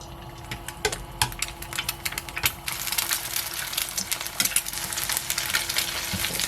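Three eggs with scallions sizzle as a scramble in an oiled pan while a utensil scrapes and stirs with repeated clicks, close and moderately quiet.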